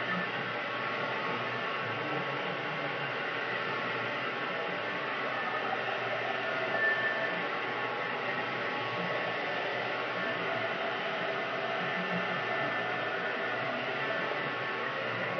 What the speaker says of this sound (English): I'm going to blow dry her hair.